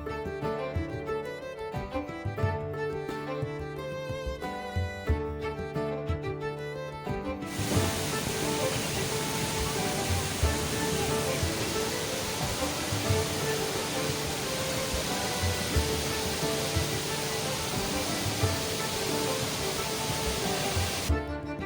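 Lakkom waterfall near Munnar pours in a loud, steady roar of falling water that swells after a brief quieter, patchier opening and then holds constant to the end, with no voices.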